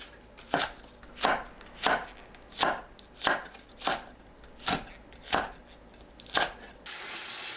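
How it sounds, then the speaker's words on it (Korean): Knife chopping green onion and Korean cheongyang green and red chili peppers into large diagonal pieces on a cutting board, nine sharp, evenly spaced chops close up, no talk. "파, 청양고추, 청양홍고추는 큼직하게 어슷 썰어줍니다."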